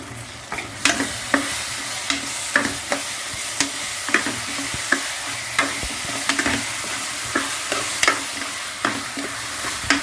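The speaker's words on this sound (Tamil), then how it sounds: "நல்லா அந்த பச்சை வாசனை போகிற வரைக்கும் ஒரு 3 நிமிஷம் நல்லா வதக்குங்க." Tomato and coriander sauté in a pan for a duck curry gravy under a steady, close sizzle, with a regular scrape of stirring every second or so throughout. No voices.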